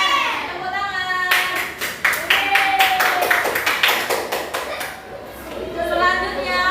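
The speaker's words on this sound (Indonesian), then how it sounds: "Tepuk tangan." Children in a classroom clap for a group of classmates, a sharp burst of quick, fairly close clapping that starts suddenly, runs for several seconds and fades, with kids' voices chattering around it.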